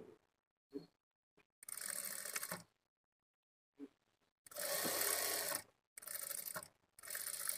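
A sewing machine stitches dots on the front part of a blouse in several short bursts of rapid whirring, close up, separated by pauses with small clicks of handling.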